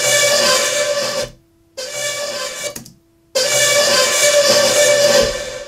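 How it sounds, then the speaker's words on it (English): A synth pushed into heavy distortion by a Camel Crusher plugin and drenched in big reverb, playing loud, sustained buzzy chords in three bursts separated by two short silent gaps. "And then I added this camel crusher, which is making the sound like super distorted"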